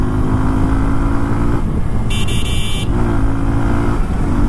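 Bajaj Pulsar N125 motorcycle engine running steadily while riding, a continuous loud drone with road and wind noise throughout and a brief high horn-like tone midway.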